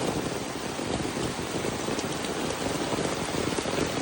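Heavy rain pours steadily onto surfaces in a tropical yard with a pond and coconut palms, a dense, even wash of sound that continues without a break and with no voices.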